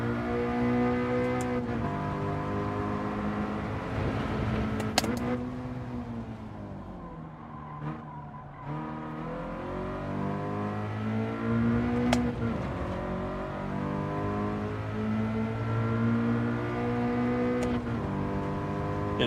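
A Toyota race car engine in Gran Turismo 7 at the Suzuka circuit, a continuous loud harmonic whine rising and falling through gear changes, with repeated revving sweeps and no talk.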